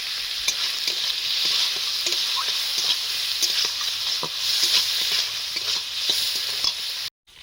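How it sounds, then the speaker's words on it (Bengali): Prawns frying in a pan, a continuous close sizzle with frequent sharp crackles and stirring clicks, ending abruptly. "চিংড়ি মাছ ভাজা হয়ে গেছে, সাইড করে দিয়েছি"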